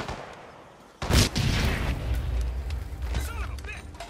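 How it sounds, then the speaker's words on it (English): Explosions go off in the stealth game Hitman 2: a sharp loud blast hits after a second of quieter ambience, followed by sustained rumbling, crackling debris and further bursts, with faint voices in the mix. "All units, be aware of explosions in the area."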